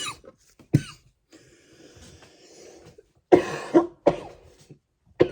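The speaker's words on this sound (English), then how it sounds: "Apologize for the coughing" Several harsh coughs from one person indoors, a couple of isolated hacks followed by a cluster of rough, throaty coughs near the end, close and fairly loud against quiet background.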